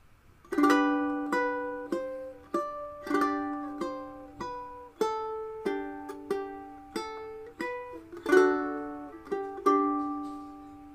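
Ukulele picked fingerstyle, playing a gentle melody of "Ode to Joy" in plucked notes and chords that ring and decay, steady and close, with no talking.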